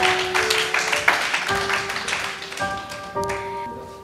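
Listeners clap at a Hindi poetry recital in a burst of close, crisp claps that thins out, while sustained musical tones from an instrument enter partway through and carry on beneath the fading applause.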